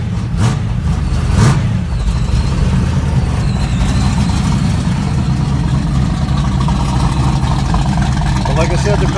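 A 1969 Camaro with a fuel-injected V8 built on 6-inch Eagle rods, a Callie's crank and JE pistons, rumbling at idle close by with a loud, deep, steady tone, a couple of quick blips early on.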